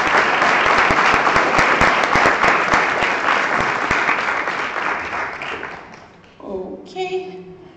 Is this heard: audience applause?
yes